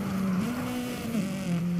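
A car drifting in the racing video game Forza, its engine holding a steady droning pitch that dips and rises slightly as it slides, loud and continuous without any speech.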